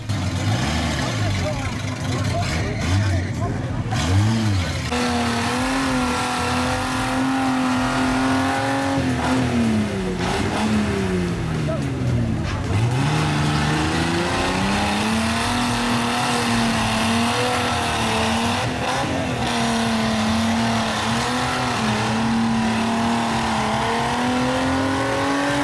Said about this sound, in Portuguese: O Willys atravessou pelo lugar teoricamente mais difícil enquanto a F-75 empacava, faltando giro no motor.